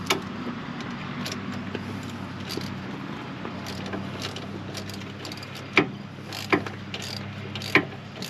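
A Saturn Ion car wheel spun by hand during an ABS sensor install, giving a soft continuous mechanical whir with faint ratcheting clicks and a few sharper metallic knocks near the end, close and fairly quiet.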